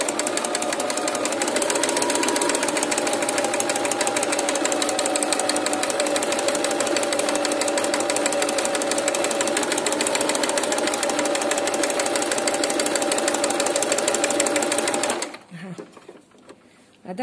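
A sewing machine stitches embroidery in a continuous fast, even mechanical chatter for about fifteen seconds before stopping, with a voice talking alongside.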